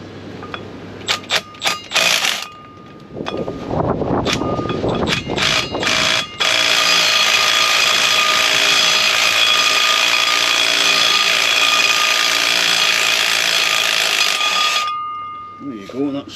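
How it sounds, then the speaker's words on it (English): An impact tool buzzes loudly and continuously on the fuel tank shield bolts of a Range Rover L405, a long close whirring burst preceded by clicks, clanks and brief talk. "impact tool and just try and buzz them off."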